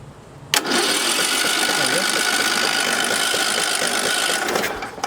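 A junked John Deere mower engine cranked over by jumping the starter directly, producing one sustained loud whirring, rhythmic cranking drone that starts abruptly, runs about four seconds without catching, and then cuts off.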